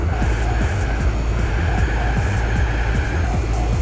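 Car engine in Gran Turismo 4 droning steadily through an S-license driving test, a continuous loud rumble with low harmonic tones holding under faint higher noise, no voices.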